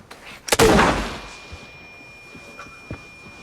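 A single heavy blast in the video game Arena Breakout booms out and rumbles away into fading echo, followed by a couple of faint distant thuds.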